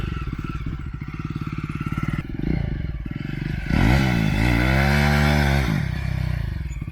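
A Jawa 42 2.1 motorcycle engine idles with a fast putter, then revs up sharply, holds a high whining roar, and settles back down, loud and close.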